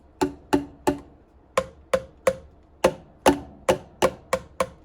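Hollow plastic boomwhacker tubes are struck in a quick, uneven series of about fourteen sharp, resonant taps, each tone ringing briefly before fading, close and clear.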